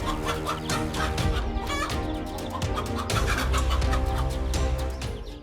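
A hen clucks in rapid, repeated, agitated bursts while confronting a cobra, sounding close and loud over a dense layer of other noise throughout.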